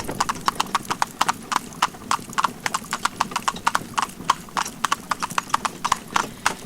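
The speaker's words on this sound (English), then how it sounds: "With the slightest suggestion they go left and maintain a steady trot down the hill." Brisk, even clip-clop of a pair of carriage-driving horses trotting downhill on a hard road, close and loud, in a steady rhythm with no talking.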